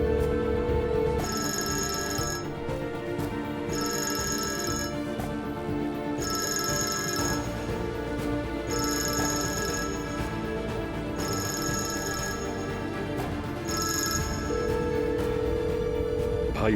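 A telephone rings in a Turkish drama scene, five evenly spaced bright ring bursts over continuous background music, fairly loud.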